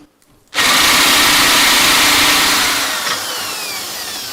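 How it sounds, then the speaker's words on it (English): A drill bores through a metal go-kart frame tube at a steep angle, a loud, steady high whine that starts abruptly after a short quiet moment and runs continuously, easing slightly toward the end. "Basically drilling through the entirety of the tube."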